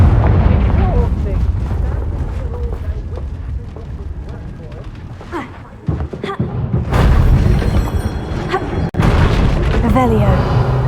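A Confringo fire-blast spell explodes in Hogwarts Legacy with loud, deep booming blasts that roll on continuously, dip briefly, then surge again into a second heavy burst.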